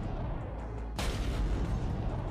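Weapons fire against enemy shields during a space battle in the roguelike game Trigon Space Story: a single heavy booming impact lands midway, loud and close, and its rumble lingers over a dense, continuous low drone of ship noise.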